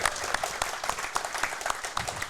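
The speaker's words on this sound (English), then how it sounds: "thought there'd be a bigger pop from the crowd" Crowd applause with scattered claps and cheers, steady and fairly dense throughout, heard alone at moderate loudness.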